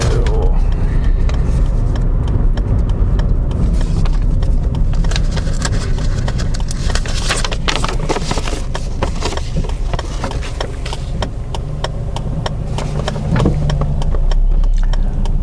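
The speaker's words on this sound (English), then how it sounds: "Let's just wait for this vehicle coming." A car on an Ohio road rumbling steadily nearby throughout, its engine and tire noise loud and continuous with scattered rattles, heard from inside another vehicle.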